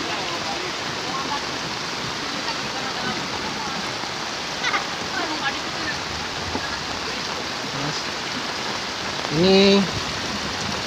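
Broad, steady roar of rushing floodwater pouring in from a forest during a flood in eastern Cirebon, constant and close throughout, with a brief spoken word near the end.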